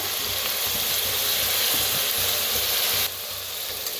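Carrot, potato and sprouted moong frying in a pan give a loud continuous sizzle with faint stirring scrapes, the hiss dropping slightly toward the end.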